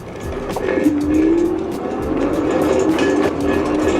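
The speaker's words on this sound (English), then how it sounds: "you guys might be able to hear a little noise coming from the front tire" A steady whirring hum from the front fat tire of an e-bike rolling on pavement in pedal assist 1, with a faint rising whine and intermittent clicks, continuous and close.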